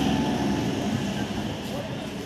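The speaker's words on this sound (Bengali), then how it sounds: "এরই মধ্যে আমাদের ট্রেন স্টেশনে চলে আসলো।" A train pulls into Dhamua station as a loud, continuous rumble and rolling clatter that fills the short stretch without letup.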